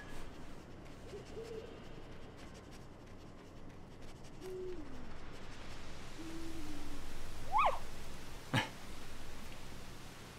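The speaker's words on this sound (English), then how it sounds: "I can hear an owl at the moment," An owl hoots in the game Endling: Extinction Is Forever, brief hoots set against steady forest ambience, with a sharp scratching click close by near the end.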